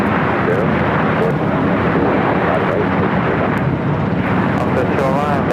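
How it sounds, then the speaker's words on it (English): A Japan Airlines Boeing 787-9 Dreamliner in oneworld livery takes off from runway 25 Right at LAX with a loud, sustained jet roar, and voices can be heard alongside the engine noise. "Japan Airlines in the One World livery, 787-9 Dreamliner."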